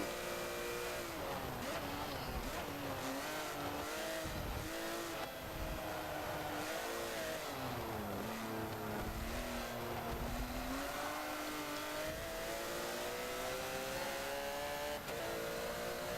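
Porsche Cup race cars lap a track, engines revving and shifting in a continuous high whine with rising and falling pitch, loud and steady, with a commentator speaking over it.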